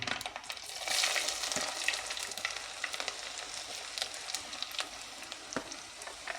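Ginger frying in hot oil for a Kerala-style lemon pickle gives a dense, even sizzle with fine crackles, close and steady with no voices.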